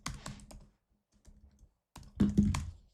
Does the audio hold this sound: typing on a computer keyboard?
yes